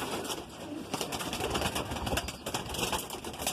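A Madrasi pigeon coos close by, a soft, steady run of low murmuring calls under broad background noise, with no talking.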